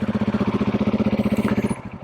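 Husqvarna 701 Enduro LR single-cylinder motorcycle running close by, a steady, throbbing pulse of engine beats that eases off toward the end.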